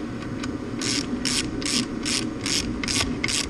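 Valve spring compressor ratcheting as it is tightened down on a Honda B-series VTEC cylinder head, giving a steady run of about eight sharp mechanical clicks over low workshop hum, close and moderately loud with no talking.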